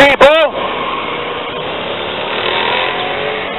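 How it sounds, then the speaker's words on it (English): A motorcycle roars past nearby on a Daytona Beach street with a steady droning rumble, starting after a brief voice and lasting several seconds. "Wait for the motorcycle go by"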